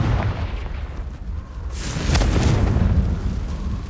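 Confringo blasting spell detonating in the wizarding video game Hogwarts Legacy, a heavy booming blast that swells midway and rumbles on with a dense low roar, no voices.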